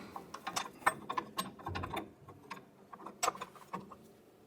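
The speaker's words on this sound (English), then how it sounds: "we can go ahead and put our wrench in there. We're going to go ahead and tighten this down." A ratchet wrench tightens a bolt on a 1993–1997 Ford Ranger's suspension during radius arm and bushing work, making quiet, close, irregular clicking and ticking bursts with light metallic clatter.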